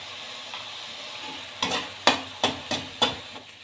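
A spoon stirs pasta with turmeric and masala in a frying pan, giving a light sizzle followed by five distinct scraping strokes in the second half, close and clear with no talk.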